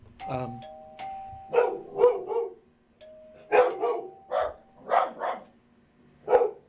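Dogs in an office bark in a string of short, sharp yips and woofs, about eight separate bursts close by, with brief pauses between them and no talk.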